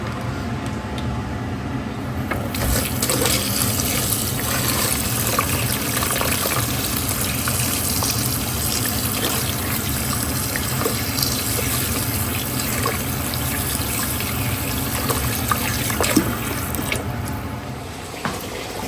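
Tap water runs steadily into a sink while small fish are washed, a continuous near gushing splash that holds for the whole stretch with only slight shifts in the flow.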